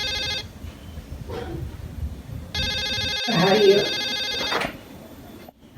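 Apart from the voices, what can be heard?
telephone ringing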